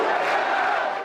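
Football supporters cheering for Canaã, a youth team from Irecê, Bahia, at a stadium with a manual scoreboard, heard as a dense, continuous crowd roar that stays loud and even throughout.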